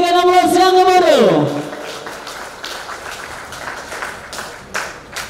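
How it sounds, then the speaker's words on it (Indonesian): Applause from a crowd at the official opening of the fourth regional assembly of Perkindo North Sumatra in 2024, following a sustained tone at the start, with ongoing clapping and chatter continuing behind an announcer. "Boleh kita berikan aplaus yang gemuruh"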